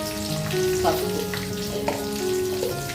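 Curry leaves and turmeric sizzling in hot oil while being stirred, a bright continuous crackle with occasional spatter pops and soft scraping, close and alone without any voices.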